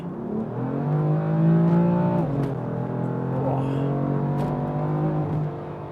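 A 2017 BMW M4 under hard acceleration, its engine note climbing steadily, briefly dipping at a gear change around mid-clip, then rising again; heard loud from inside the car with no talking.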